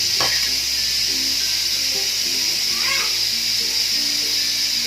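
Beef in a pan with ginger-garlic paste and spices sizzles steadily as a medium-sized onion goes in, a loud, continuous frying hiss with faint clatter underneath.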